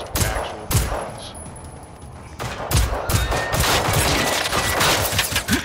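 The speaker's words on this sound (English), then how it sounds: "We're shooting at this thing" Bursts of gunfire from the video game Generation Zero: several loud, sharp volleys and rapid machine-gun-like strings of shots, close and dense, with brief gaps between them.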